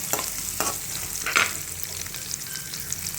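Curry leaves and garlic paste crackle in a frying pan, a soft continuous sizzle with a few brief scraping stirs of a spoon close by.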